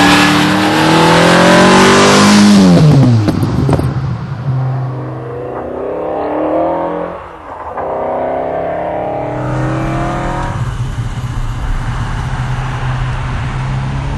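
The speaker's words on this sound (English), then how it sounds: "I am driving the noisiest, most exciting, and fastest car this side of a Lamborghini Diablo." TVR sports car with its own V8 engine revving hard and accelerating, a loud close roar with sweeping gear changes and a falling pitch drop before settling into a steady drone.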